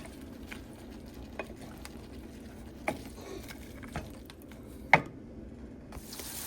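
Vegetables with soy sauce are stirred in a pan, giving sparse utensil clicks and scrapes at irregular intervals over a faint low sizzle, with one sharper knock near the end.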